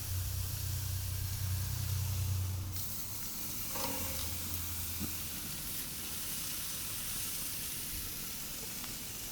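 Steaks searing on a Monument Mesa II 415BZ grill, a continuous close sizzle and hiss with a low hum that fades after a few seconds, leaving steady crackling.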